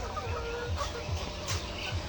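Layer hens clucking on a poultry farm, several short low clucks repeating in a loose rhythm, close by over a busy background murmur of the flock.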